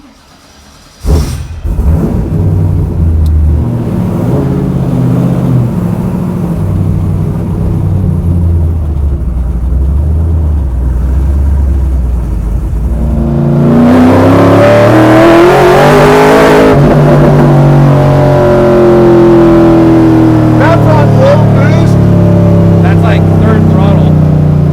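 A 1,100 hp supercharged Buick with a sequential gearbox idles loudly, then revs hard with rising, stepping engine pitch through abrupt shifts, the engine roaring close and loud throughout; some voices are mixed in.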